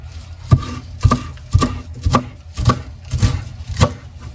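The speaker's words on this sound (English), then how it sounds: "Not gonna chop it too small because I'm gonna mince it up in there" Knife chopping ingredients for Thai Prik Nam Pla chili fish sauce on a cutting board, about eight loud, close, evenly spaced chops in a steady rhythm.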